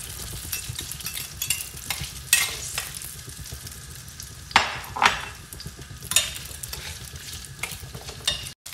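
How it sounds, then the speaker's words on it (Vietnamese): Vegan beef balls sizzle in oil in a pan while a utensil stirs and scrapes, giving a continuous frying hiss with several louder clattering scrapes close by. "xào bò viên chay."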